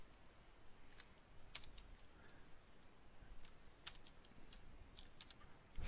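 Typing on a computer keyboard while writing a Perl script, with scattered soft key clicks over a quiet background hiss, fairly faint and irregular, no voices.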